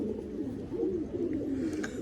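A pigeon coos softly and close by while it is handled, giving a low, wavering call over quiet background hiss.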